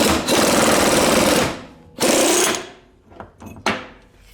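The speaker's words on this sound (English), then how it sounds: "Right now we're taking this pitman arm off." A pneumatic tool hammers loud and close at the pitman arm on the steering of a 1973 Buick 442, in two long bursts followed by short stuttering blips.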